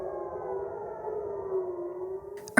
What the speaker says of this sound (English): sirens blared across central Israel